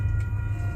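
A freight train passing in Schuyler, Nebraska, its horn blaring as a sustained tonal blast over a low heavy rumble, brief and close.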